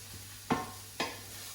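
Onions and leeks fry in a pan, a low continuous sizzle broken by two distinct stirring scrapes, close and moderately quiet.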